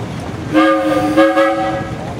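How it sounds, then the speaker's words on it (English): A steam engine whistle at the Pioneer Engineers Club parade, from an engine out of Arcanum, Ohio, gives two clear, loud tonal blasts in quick succession, the second slightly shorter, over a low outdoor rumble. "gentlemen, you got a whistle"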